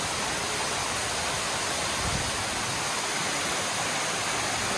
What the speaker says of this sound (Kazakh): Ой, жаңбыр құйып атыр.